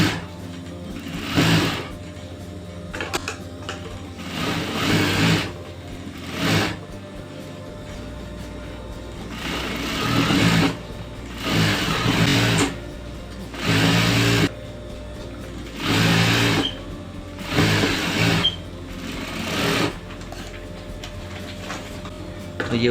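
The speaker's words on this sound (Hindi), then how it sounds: "यहाँ पे एक पैर की सिलाई लगा देनी है।" A sewing machine stitches a seam on a Rajputi-style lehenga in repeated loud bursts of rapid whirring, each separated by a quiet pause.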